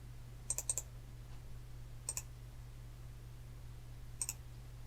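Quiet computer mouse clicks while working in QGIS software come in small clusters, a quick triple, then a pair, then another pair a couple of seconds apart, faint and crisp over a low steady hum.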